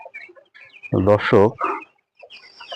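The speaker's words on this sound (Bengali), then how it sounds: "এখানে 1000 ব্রয়লার মুরগি আছে।" Broiler chickens on a poultry farm of about 1000 birds give a few loud, close clucks in a short burst between quieter calls, and a person speaks briefly.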